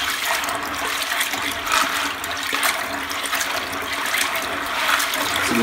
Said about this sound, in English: Last washing, and then we drain,